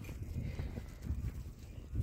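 Horse hooves clip-clopping along a mountain trail in Kashmir, a steady muffled thudding rhythm close by with a low rumbling background, no talking.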